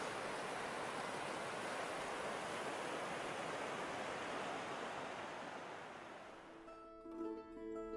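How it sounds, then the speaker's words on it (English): A mountain stream on the John Muir Trail rushes steadily in a broad, constant wash of flowing water that thins out near the end as a few other faint sounds come through. "Just another water feature"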